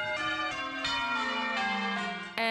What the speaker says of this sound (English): the music, the method, and the math behind church bells